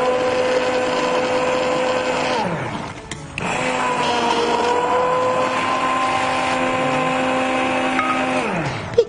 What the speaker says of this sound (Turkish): Ben şimdi bunu böyle makineden geçiriyorum